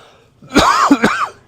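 A single harsh, close cough with a throaty, raspy rattle, split into two quick bursts.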